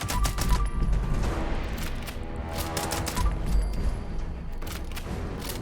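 Gunfire from a shotgun with an anti-armor effect in Fallout 76 rings out as a loud, rapid series of sharp bursts and blasts, repeating steadily with no talk over it.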